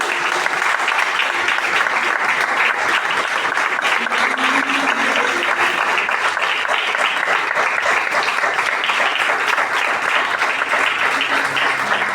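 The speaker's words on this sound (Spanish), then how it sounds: "¿Puede darle un aplauso al Señor?" A church congregation applauds the Lord during a Spanish-language sermon, a dense, sustained roar of clapping filling the room at full strength from start to finish.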